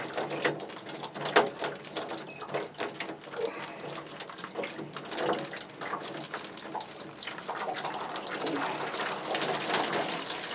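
Water gushes steadily out of a UV germicidal system housing once its seal breaks during a bulb change, a continuous hissing splash that builds louder toward the end.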